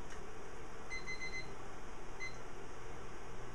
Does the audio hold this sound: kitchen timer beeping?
yes